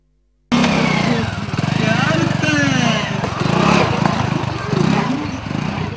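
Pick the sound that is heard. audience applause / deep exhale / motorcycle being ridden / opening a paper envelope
motorcycle being ridden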